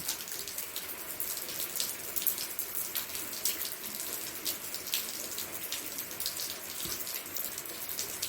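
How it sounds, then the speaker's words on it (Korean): Rain falls steadily in a recreational play space outdoors, a dense continuous patter of drops hitting surfaces with scattered sharper splashes, moderately loud and unbroken throughout with no voices. "그래서 비 오는 영상 한번 담아봤답니다."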